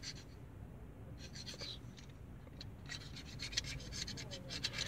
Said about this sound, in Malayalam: ഇതുപോലെ മെഴുക് ചുരണ്ടി കളയുക